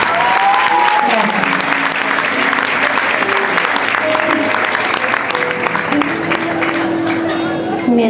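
A concert audience at La Trastienda claps loudly for a fan, sustained dense applause with scattered shouts and voices mixed in, filling the whole stretch without a break.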